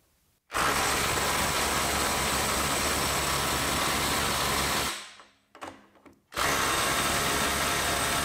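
A cordless impact wrench, a Milwaukee 2960 or Ryobi P262 on a 6 amp-hour battery in its highest mode, runs loud and steady for several seconds. It stops briefly with a few clunks, then starts again.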